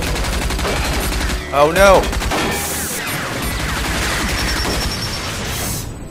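Gunfire and missile fire from the Rage video game crackle continuously at close range with a brief louder burst, and a voice shouts briefly over the battle noise.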